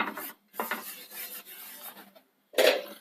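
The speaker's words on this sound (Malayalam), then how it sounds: "കല്ലിലേക്ക് ലേശം എണ്ണ തൂത്ത് കൊടുക്കാം." A little oil being wiped across a hot dosa griddle for wheat dosa, heard as short close rubbing and scraping strokes with brief pauses and a sharper scrape at the end.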